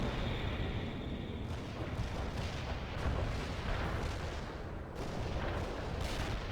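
Artillery barrage in the video game World in Conflict: a dense, continuous rumble of booming shell impacts and blasts rolling on without pause, loud and unbroken by speech.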